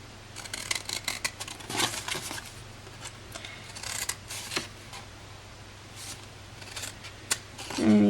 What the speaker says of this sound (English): And then just cut up each corner.